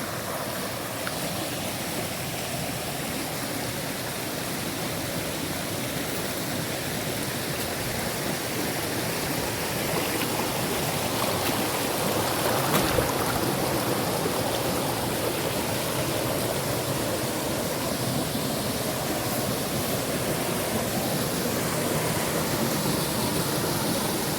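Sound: natural waterfall on the way up to the rice fields, Laos

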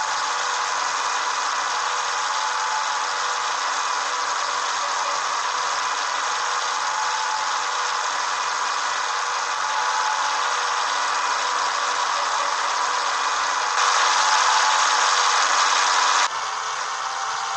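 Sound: Scania 111 truck engine roaring at top speed

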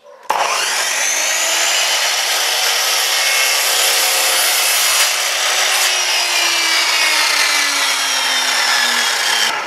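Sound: power saw disc cutting wood

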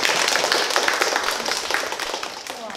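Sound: audience applause

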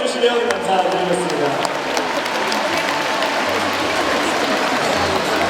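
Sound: stadium crowd applause at baseball game

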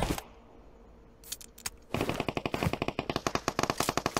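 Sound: gunfire in the video game PUBG Mobile

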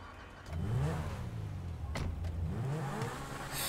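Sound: sports car engine revving in video game GTA 5

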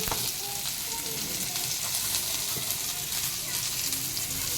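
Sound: bitter gourd frying in oil in wok

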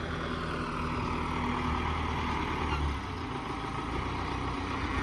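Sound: MTZ 892 tractor engine running

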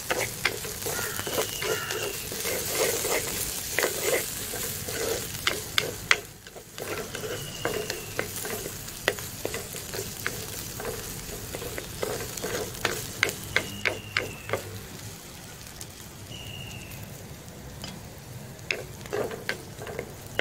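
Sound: frying green chillies and curry leaves with garlic, ginger, onion

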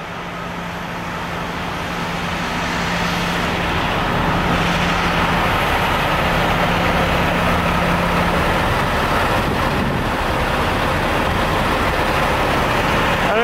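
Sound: truck engine idling loudly outside Barclays Center

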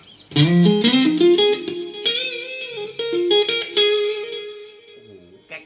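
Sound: electric guitar through Mooer GE-200 multi-effects patch

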